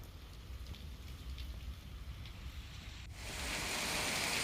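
Early-morning rain falls in Bhavnagar as a steady, fairly faint hiss that grows noticeably louder and fuller partway through, with no voices.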